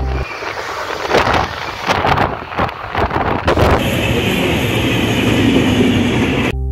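A passenger train bound for Rampurhat rolls through East Bardhaman with a loud, continuous rumble and rattle, wind buffeting the microphone, and faint rhythmic clacks of wheels over rail joints.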